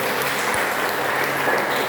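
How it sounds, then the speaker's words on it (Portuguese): Church congregation clapping in praise during a missions worship service, a steady dense wash of hand claps filling the short stretch at even loudness with no talk. "As palmas do louvor ao Senhor."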